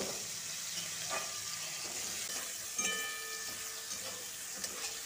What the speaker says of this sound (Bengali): আলুগুলোকে দিয়ে একটু ভাজা ভাজা করে ভাজবো।